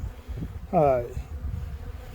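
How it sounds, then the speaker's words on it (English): A honeybee swarm hums at a hive, with one loud buzzing pass sweeping close for a moment. Fainter, lower buzzing and rustling fill the rest. "trying to get to the swarm that's in here goes back to their original colony"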